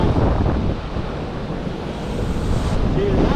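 Rough monsoon sea off the Konkan coast, roaring surf with waves crashing onto rocks and washing continuously, heavy wind buffeting the microphone throughout.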